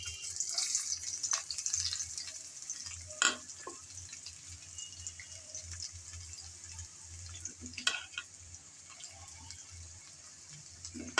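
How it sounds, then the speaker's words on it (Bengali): Chopped onion frying in hot oil with cardamom and cinnamon while cooking chicken kosha, a steady soft sizzle with occasional stirring clinks and scrapes. "এখন নেড়েচেড়ে পেঁয়াজ ভেজে নিতে হবে।"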